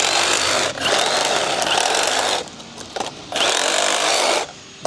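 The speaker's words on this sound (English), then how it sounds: "He's drilling in exactly the same place." A power drill bores into plastic grass grid mats for a driveway, running in two long loud whirring bursts with a short pause between them, close and harsh.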